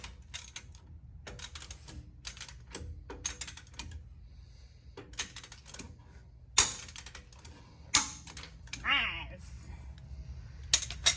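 Several sharp mechanical clicks from a torque wrench ring out amid quieter ratcheting and tool handling while replacing ball joints on a Jeep Gladiator, with faint talk in the background.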